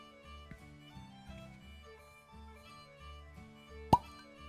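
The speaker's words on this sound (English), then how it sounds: "Yes, I am excited for the cork pop" A synthetic cork pops sharply out of a Wild Rover High N' Wicked Irish whiskey bottle: one loud, crisp plop near the end, after a stretch of quiet background music.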